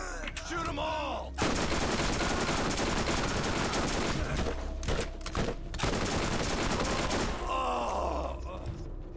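Rapid gunfire in the Borderlands video game: dense bursts of automatic shots rattle almost nonstop, broken by short pauses, loud and close, with grunts and game effects around the shooting.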